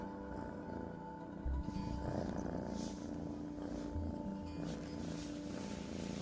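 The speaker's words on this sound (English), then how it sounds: "You got the loudest purr." Close, steady purring from a ginger kitten, a continuous low rumble that runs through the whole stretch at a soft, even level with no talk over it.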